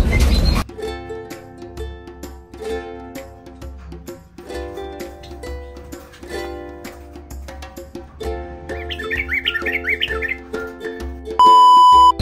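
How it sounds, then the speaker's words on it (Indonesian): Java sparrows kept in a backyard cage chirp in short, scattered, bright calls, some overlapping, against a quiet outdoor background. "ini ada burung gelatik belong saya yang sudah hampir setahun ini"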